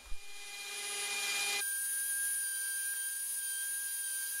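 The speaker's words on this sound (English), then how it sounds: "Then I used this fine-tipped burr to outline the inlay." Rotary tool with a fine-tipped burr outlining an inlay on a wooden wand, a steady high motor whine with grinding that thins out partway through as the burr leaves the wood, close and continuous.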